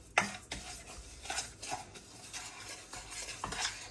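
A spoon scrapes and clinks against a pan while stirring a dry sugar and cocoa mixture for chocolate salami, a series of close, quiet scraping strokes with light metallic taps.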